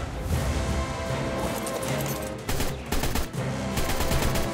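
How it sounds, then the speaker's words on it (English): Assault rifle fire in the video game ARK Survival Evolved: rapid bursts of loud gunshots fill the clip, briefly pausing and resuming, with busy game noise underneath. "But I want to try this assault rifle on him."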